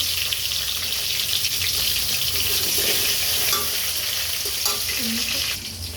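Sliced onions and tomato sizzle and fry in a pan for chilli chicken, a steady close crackle with occasional stirring clinks, no talking.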